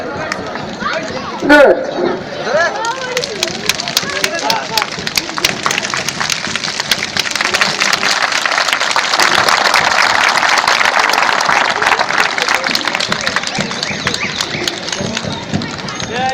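A live audience claps with their fingers to imitate rain, starting as sparse taps and building into a dense, fast patter that swells and thins as more or fewer people join, with children's voices mixed in.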